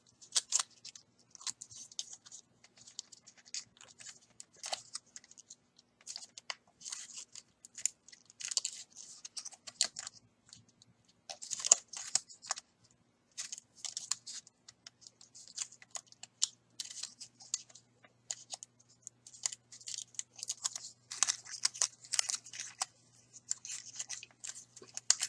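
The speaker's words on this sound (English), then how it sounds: "I think I need to give it some more folding on the tips there" Paper petal tips of a handmade paper flower are folded and crimped, giving soft, irregular crinkles and rustles in close, quiet bursts with brief pauses between them.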